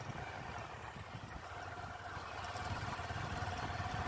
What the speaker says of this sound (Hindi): यहाँ पर साथ में ट्रैक्टर के द्वारा इस पर पानी भी छिड़का जा रहा है